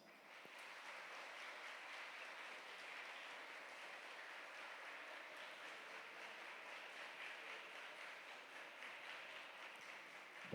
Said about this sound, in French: Vous allez leur dire merci en les applaudissant